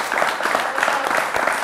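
A TV quiz show studio audience gives a brief burst of applause for the woman who leads the Pro Loco of Romans d'Isonzo. The clapping is steady and dense for under two seconds.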